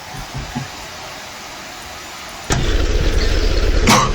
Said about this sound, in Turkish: Aha otobüs bile gelmiş buraya.